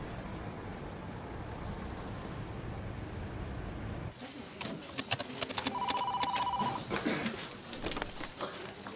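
A telephone rings as an anonymous caller contacts the Japan Fair Trade Commission: a short electronic ring tone sounds after a few seconds of rumbling background noise that resembles traffic.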